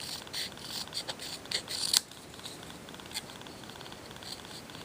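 Scissors snip through card stock for a handmade friendship card in a run of short, crisp cuts, with one sharper final snip, and then quiet.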